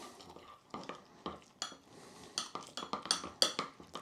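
Spoon stirring gravy into corn flour to form a slurry, heard as a run of close scraping and clinking strokes against a bowl, irregular and fairly quiet, with no talking.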